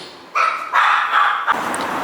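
Dogs barking indoors in a 1940s apartment after a knock at the door, a few loud close barks in quick bursts then a sustained yelping volley.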